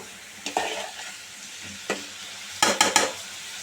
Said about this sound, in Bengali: নেড়ে চেড়ে মিশিয়ে নিচ্ছি, ভালো করে নেড়ে চেড়ে মিশিয়ে নেব।